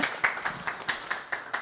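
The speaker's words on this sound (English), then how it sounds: "And there's two more claps." An audience at a hybrid evening event claps in a slow, spaced pattern, about eight distinct claps in a steady rhythm, moderately loud with no talk over them.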